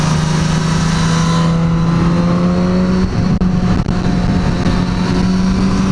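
A Suzuki GSX-S 1000 four-cylinder motorcycle engine runs loud and close, holding a smooth, steady high-revving drone with a strong low tone, briefly dipping before carrying on.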